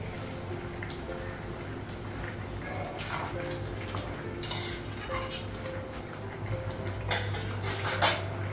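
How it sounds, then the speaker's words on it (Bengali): Metal clatter of a cooking pot lid and utensils in a home kitchen, with a few sharp clinks and scrapes standing out over a steady low hum, close and moderately loud. "ঢাকা ঢাকনটা উঠানো"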